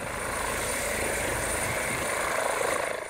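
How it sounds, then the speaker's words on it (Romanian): Loud, continuous helicopter rotor roar with a steady rhythmic chop, close and unbroken throughout, at the scene of a car accident. "un elicopter au intervenit la locul accidentului"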